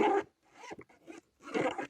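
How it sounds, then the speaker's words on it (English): A zipper on a homemade kids' busy board is pulled back and forth, giving several quick, close rasping zips with short pauses between them. "We have another zip"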